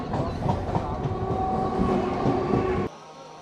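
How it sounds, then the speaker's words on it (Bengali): A train arriving at Murshidabad Junction station rumbles close by with rhythmic clickety-clack of wheels on rail joints, loud and steady before cutting off abruptly to quieter background. "ট্রেন দিয়েছিল 2 নম্বরে"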